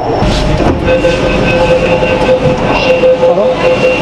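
A Kolkata Metro Green Line train runs at speed, a loud close rumble with wheel clatter and a sustained high whine from inside the carriage.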